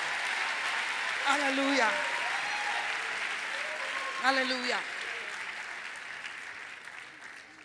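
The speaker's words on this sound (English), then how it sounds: "Somebody ought to clap unto the Lord." A church congregation applauds steadily throughout while a preacher's voice calls out twice over the clapping.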